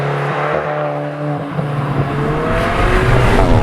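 Alfa Romeo 4C with its turbocharged 1750 aluminium-block engine, revving steadily under load with rising harmonics and a loud, continuous near engine note throughout.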